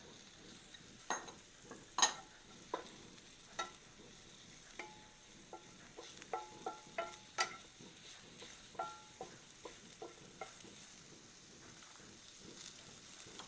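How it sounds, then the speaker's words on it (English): Shallots and mushrooms sautéing in butter for chicken marsala, a quiet sizzle punctuated by a dozen or so sharp utensil clinks and taps against the pan at irregular intervals. "we're going to saute our shallots just for a second, just like garlic"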